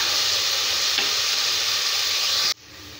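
Onions sizzling steadily in hot oil in a pan for mushroom biryani, a constant loud frying hiss that cuts off abruptly near the end, leaving a quieter background.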